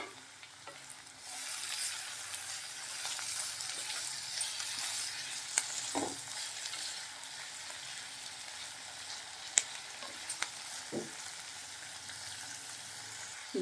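Thinly sliced vegetables frying in a pan, a steady close sizzle throughout with occasional clinks and scrapes of a stirring spoon, no voices.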